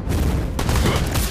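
Gunfire from a gunslinger hero in the Mobile Legends video game, a dense burst of rapid shots that rolls on without pause, loud and close, with no talk.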